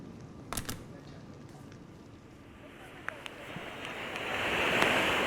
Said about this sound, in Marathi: या ठिकाणी समुद्रावरती उंच लाटा उसळत असल्याचं आपल्याला पाहायला मिळतंय